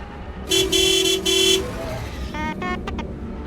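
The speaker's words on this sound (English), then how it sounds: "Oh, I missed that honking so much." Car horn honking in Star Wars The Old Republic: a loud sustained horn blast in three bursts, followed by shorter, brighter toots, over a murmuring game background.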